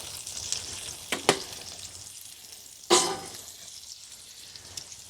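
Food frying on a OneTigris Tegiman camping stove outdoors, a soft steady sizzle broken by a few sharp crackles and pops, one louder burst in the middle, with no talking.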